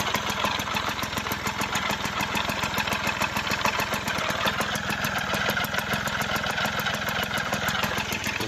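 A Suzuki FZ50 moped engine idles steadily at close range, a continuous fast buzzing putter with an even rhythm and no revving throughout.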